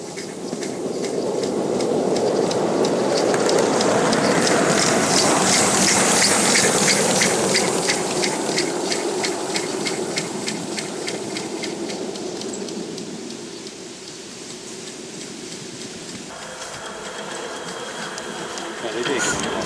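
Steam locomotive Sk-155 coasting downhill on a midsummer eve run, a steady loud rushing and rumbling roll with rhythmic rail clatter that eases off toward the end, with people talking over it.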